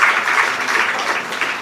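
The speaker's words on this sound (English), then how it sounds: "Give her a big hand." Applause from an audience at an International Women's Day event, a steady wash of close, bright clapping lasting under two seconds.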